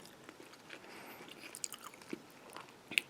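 Someone chews tender cooked heart meat up close. The quiet, moist mastication is broken by a few sharp crunchy bites, with no talking.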